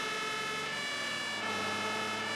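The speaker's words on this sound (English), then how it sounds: "Get our siren off here." Fire engine siren in the Emergency Call 112 firefighting simulation game, a loud steady wailing tone with dense harmonics that runs unbroken through the whole moment, with no voices over it.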